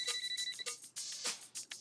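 A phone ringtone plays nearby, a bright repeating electronic melody with quick pulsing notes, fairly quiet and with no one talking.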